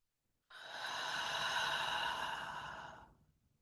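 A single long, deep breath during a guided meditation, heard as a smooth, airy exhale that swells and then fades over a few seconds, close and alone.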